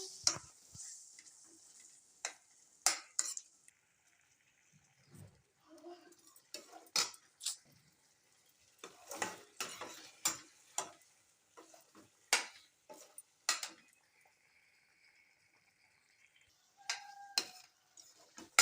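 Butter chicken with Amul fresh cream stirred on a low flame brings sparse spoon scrapes and metallic clinks against the pan, with short bursts of soft sizzling between quiet pauses.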